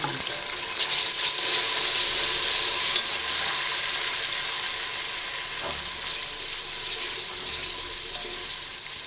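Finely chopped, peeled tomatoes are added to onions frying in a pan, giving a continuous broad sizzle with some stirring noise, fairly loud and steady, with no voices.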